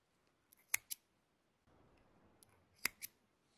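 Sharp scissor snips cutting Alize Puffy yarn, a pair of close crisp cuts, a quiet pause, then another pair of snips.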